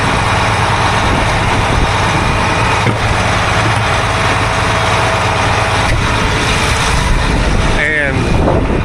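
A skid steer engine runs steadily at a farm barn, a loud continuous low rumble that holds throughout.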